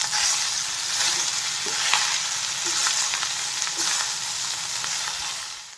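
Idli upma being stirred in a hot pan, a steady scraping and stirring with a soft sizzle underneath, close and continuous with a few sharper knocks of the spoon.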